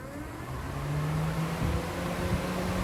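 A car radiator cooling fan motor, switched on for a forced-drive circuit test in an automotive electronics workshop, gives off a steady whirring hum with rushing air. It is fairly loud and continuous, and its tone shifts slightly partway through.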